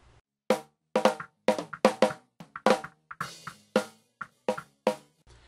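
A drum track with a gated snare drum, hits in a steady pattern with tails cut off quickly into silence, leaving tight, dry strikes.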